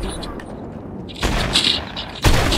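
Gunfire in a shooter video game played on controller sounds as bursts of rapid shots and booms, with a louder volley near the end over a noisy game background.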